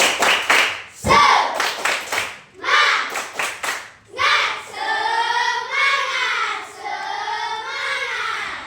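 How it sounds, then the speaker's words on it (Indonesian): A classroom group claps out the rhythmic 'tepuk semangat' cheer, sharp clap bursts alternating with loud chanted voices of children and a teacher. "Tepuk semangat."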